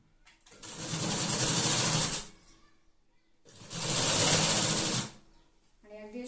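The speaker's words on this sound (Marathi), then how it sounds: "आणि अगदी अशी बरोबरीने टिप मारायची आहे" A sewing machine stitches lining onto a skirt belt in two loud, close bursts of rapid whirring, each about two seconds long, separated by a quiet pause.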